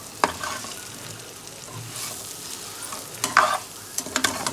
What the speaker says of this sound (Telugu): అంటే విరగకుండా కలపాలండి.